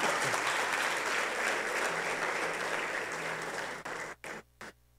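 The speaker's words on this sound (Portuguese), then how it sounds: "eu quero que você fique de pé e aplaude o Senhor nessa manhã." A church congregation applauds at a Sunday morning service, steady dense clapping filling the room for nearly four seconds before breaking into a few short fading bursts, with a low tone held underneath.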